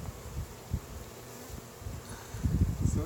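Honey bees hum around an open hive while their queen is released, a low buzzing drone with passing insects near the ear, growing louder and busier toward the end.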